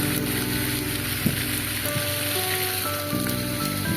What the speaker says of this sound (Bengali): এদিকে দিকে কিন্তু খুব ঝমঝম করে বৃষ্টি হচ্ছে